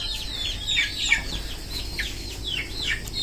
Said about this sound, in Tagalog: Yung mga manok naghihintay,